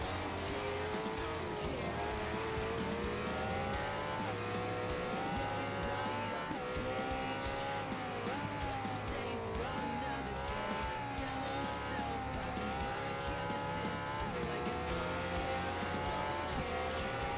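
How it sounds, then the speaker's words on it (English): Motorcycles racing in the video game Ride 4, steady loud engine whine rising and falling through gear changes and braking for turns, continuous throughout with occasional tire squeal. "you really got to stay on top of your brakes apparently when you're racing motorcycles"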